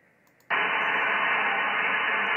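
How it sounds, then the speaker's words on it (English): Static hiss from an SDR receiver paired with a Yaesu FTDX101D on the 80-meter band in the evening: a faint hiss suddenly jumps to a loud, steady wash of white noise that holds to the end. "You can drop that white noise down just by clicking the AGC,"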